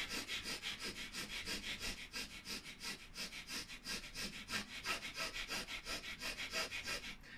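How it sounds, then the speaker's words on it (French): Vigorous bhastrika breathing through the left nostril alone, a rapid, even series of forceful sniffing in-and-out breaths, close and rhythmic, about two per second. "je vais faire du coup mes 12 cycles de respiration avec la narine gauche exclusivement"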